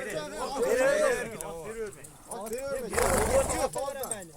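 Horses at an ulak (goat-pulling) game in Alai, Kyrgyzstan, whinnying and moving about close by. Loud shouting and crowd chatter run throughout and partly cover the animals.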